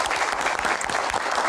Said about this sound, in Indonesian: Tepuk tangan para panelis.